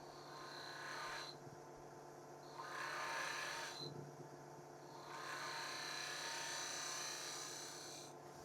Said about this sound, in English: Let me take a little bit with the curved scraper.